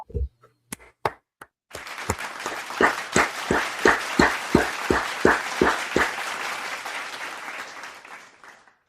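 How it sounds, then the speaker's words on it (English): An audience claps in a rhythmic beat at a gathering, a few scattered claps first, then a steady series of sharp, loud unison claps that fade out at the end. "Clap it up."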